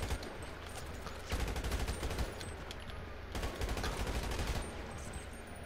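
Rapid AK rifle fire in GTA 5, sustained bursts of loud, close gunfire rattling continuously through the whole stretch with a brief surge in intensity partway through.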